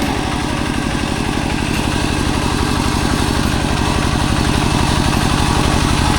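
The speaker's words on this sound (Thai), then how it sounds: "รถไถเดินตาม" A walk-behind farm tractor imported from Thailand runs close by, its engine thumping in a fast, even single-cylinder pulse that stays loud and constant throughout, with no voices.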